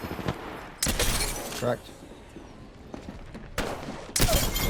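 Bursts of rapid gunfire from an Apex Legends match on console, loud crackling volleys at the start, middle and end with quieter shots between, while a player talks over the action.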